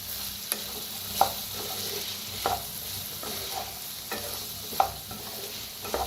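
A spoon stirs bitter gourd cooking in a pan as it releases water, soft scraping strokes at regular intervals over a continuous low sizzle, close and without talk.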